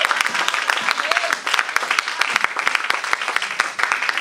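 A church congregation applauding during a sermon, dense rapid clapping throughout, loud and close, with voices mixed underneath.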